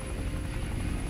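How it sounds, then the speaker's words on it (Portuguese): A helicopter circles overhead in the video game Infamous First Light, a steady rumbling rotor drone that stays constant and fairly faint with no speech over it. "Tem que fugir primeiro desse helicóptero, né? Que tá rondando tudo aí,"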